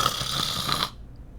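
A sleeping person lets out a single loud, rough snore that rasps for almost a second and then cuts off into near silence.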